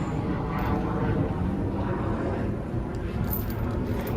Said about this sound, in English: Jet flying over